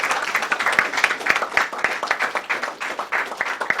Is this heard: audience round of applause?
yes